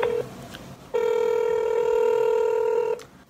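Speakerphone call being placed: a quick burst of dialing tones, then a long, loud steady ringback tone that holds for about two seconds before cutting off, heard up close with no talking.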